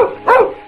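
A single dog bark rings out loud and close, one short tonal yelp standing alone.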